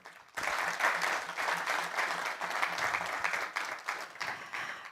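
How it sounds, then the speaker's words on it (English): Sustained audience applause for panelists at a cyber conference opening ceremony, dense steady clapping throughout at moderate distance with no talking. "I'd like to invite the audience to please join me in giving a round of applause to the"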